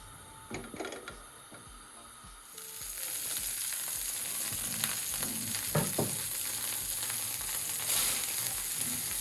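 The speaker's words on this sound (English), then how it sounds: "In my frying pan here, I'm just gonna fry these off a little bit, and I'm just gonna use a bit of butter" Jamaican cod fritters frying in a little butter in a frying pan: a sharp sizzle swells after a few light clatters and then holds as a steady, close crackle.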